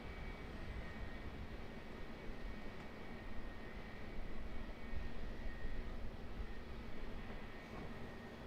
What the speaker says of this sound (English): Looks like another 777 coming out for departure.